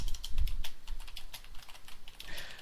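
Rapid typing on a computer keyboard: quick, close, irregular clicks in fast bursts, with no voice over them.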